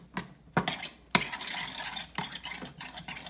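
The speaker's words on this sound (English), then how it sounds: "we're gonna kind of stir around" Oatmeal stirred in a pot on the stove, several distinct scraping spoon strokes against the pot at an uneven pace over a faint cooking hiss.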